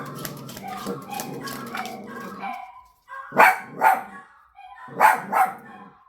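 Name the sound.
dogs barking at someone walking by the house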